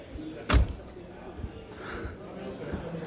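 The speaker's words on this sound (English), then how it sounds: "I'm going to close the door here from this one" Randger R640 camper van door shut with one sharp, solid slam close by, followed by lighter clunks and background movement while a person talks.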